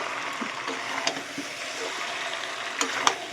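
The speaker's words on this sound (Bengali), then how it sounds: "এখানে আমার ভালো করে মশলা কষা হয়ে গেছে" Spice paste for chicken curry sizzling and frying in oil in a pan, a steady close crackle with occasional stirring scrapes and small pops, no talking.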